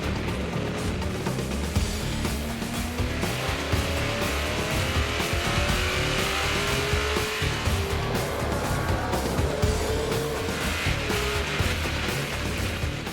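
NASCAR race cars at the green flag in Montreal roar together in a loud, continuous pack, engines whining and shifting as they jostle through corners at close range.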